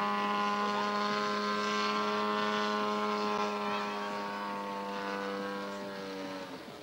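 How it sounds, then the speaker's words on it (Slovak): A large-scale model aircraft built as a replica of a real plane makes a low, slow flyby at a model airshow in Martin, its propeller engine droning as a strong steady tone that slowly fades as it passes. "Výzda nám predvádza nízky prielet na malej rýchlosti."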